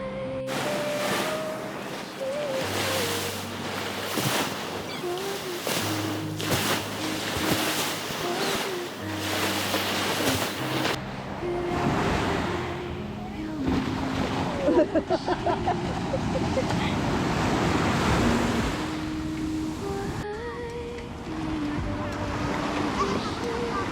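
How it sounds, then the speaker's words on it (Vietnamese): Sea waves washing onto a beach at sunrise, a continuous rushing surf with wind, mixed with faint voices and distant activity throughout. "Tiếng sóng, tiếng cười đùa, tiếng những bước chân trần trên cát."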